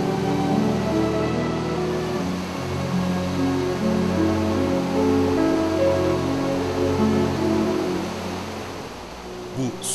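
Fırtına stream rushing through a valley, a steady broadband wash of flowing water heard up close and continuous, with no clear voices over it.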